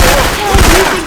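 Syphon Filter weapon effects modded into the zombie shooter Left 4 Dead 2, a loud, near burst of rapid gunfire lasting about a second, with a voice speaking over it.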